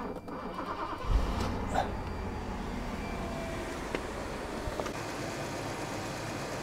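A cold car engine idling at its fast cold-start idle, a vehicle with an automatic transmission, holding a steady close hum with a couple of faint knocks partway through.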